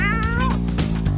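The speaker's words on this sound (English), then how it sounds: "Don't pull that kitty's tail." Cartoon cat in the Legend of Kyrandia adventure game lets out a loud, wavering yowl after its tail is pulled, a single drawn-out cry sliding downward, with no voice over it.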